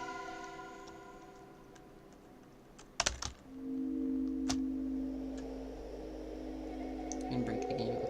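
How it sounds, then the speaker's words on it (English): Keyboard keys clatter in a sharp, close burst of clicks over a steady hum and faint game music while playing Crypt Underworld, followed by a low sustained tone. "Keyboard noises."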